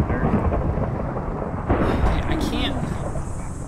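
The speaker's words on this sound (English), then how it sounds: "Yeah, there's thunder." Thunder rolls in a video game, a loud, sustained low rumble with rain hissing underneath that swells briefly partway through.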